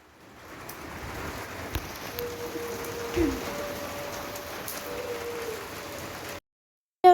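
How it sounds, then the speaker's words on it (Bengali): Steady soft patter of midday rain with lightning fills the clip, with a few sharper knocks and a brief tonal hum midway before the sound cuts out near the end. "দুপুরবেলা বৃষ্টি হচ্ছে বিদ্যুৎ চমকাচ্ছে"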